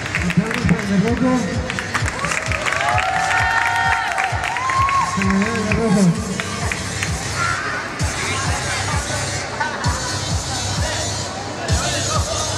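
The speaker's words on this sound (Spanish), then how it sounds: "Aplausos para el Rojo" At a live show, a crowd's applause and cheering for a performer called el Rojo rolls on steadily, thick with clapping and shouts, while an amplified announcer's voice and crowd chatter carry over it.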